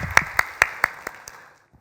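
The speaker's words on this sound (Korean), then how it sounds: "집사님 우리에게 좋은 교훈 주신 것에 대해서 감사하면서 박수로 감사 드리죠." A church congregation claps in thanks, about seven sharp, evenly spaced claps that grow softer and trail off into quiet within two seconds.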